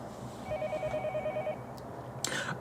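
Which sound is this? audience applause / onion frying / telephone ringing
telephone ringing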